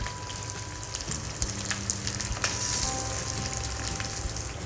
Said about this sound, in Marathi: आळूवाड्या आपल्याला परतून घ्यायच्या